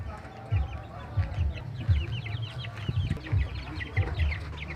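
A flock of turkeys gobbles and clucks steadily, many birds calling over each other at close range with a low rumble beneath.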